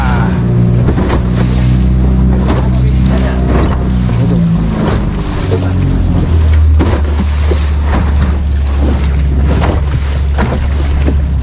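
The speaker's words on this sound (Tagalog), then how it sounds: "Lumaki alon eh." Big ocean waves slap and surge around a fishing boat, a loud, close churn of water with heavy low rumbling and intermittent splashes, no voices.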